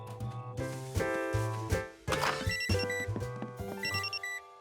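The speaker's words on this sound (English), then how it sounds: "that's just the smoke detector, George." A cartoon smoke detector with a low battery beeps and chirps in short electronic tones, layered over a bouncy musical underscore with plinking notes.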